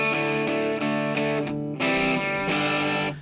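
Heavily distorted electric guitar chords ring out loud and sustained, a few strummed changes with brief gaps between them.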